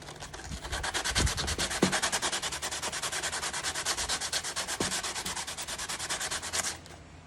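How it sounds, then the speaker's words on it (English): Sandpaper rubs steadily over super glue mixed with dust filler on the body of an RC Piper Cub model. The close, rhythmic back-and-forth scraping runs for about six seconds and then stops abruptly. "I've sanded this down a little bit. I'm going to sand it down even more."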